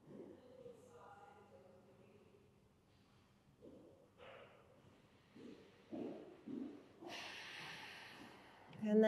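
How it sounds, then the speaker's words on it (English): Slow, deep breaths drawn in and out during a full-body stretching flow, soft airy inhales and exhales with a louder hissing breath near the end, close and quiet. "Take some deep breaths."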